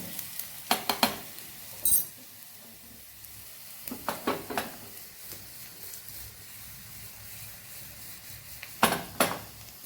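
Garlic sautés in hot oil in a pan for a dal tempering, giving a soft continuous sizzle broken by several sharp clinks and scrapes of a stirring spoon against the pan. The sound is fairly quiet and close, with no talking.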